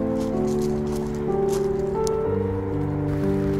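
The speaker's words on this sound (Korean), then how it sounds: "아, 캠핑장에 비가 많이 옵니다." Steady rain falls at Nanji campground in Seoul on a dark winter night of wet-weather camping, a continuous patter with some tonal background hum mixed in.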